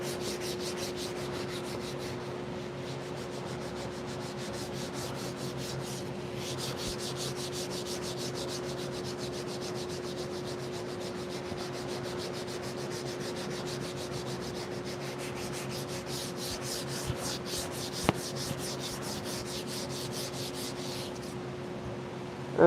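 Steady dry rubbing of worn sandpaper over a massive wooden beam console table during finishing, a continuous abrasive hiss running alone at moderate level with slight strokes in rhythm throughout.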